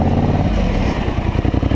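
The engine of a Polaris Scrambler 850 ATV in low gear on a thick frozen ice pond runs loud and close, rumbling and clattering throughout without any talk.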